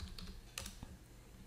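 Fingers typing a command in AutoCAD on a computer keyboard: a quick run of close, light key clicks with one firmer tap in the middle, in a quiet room.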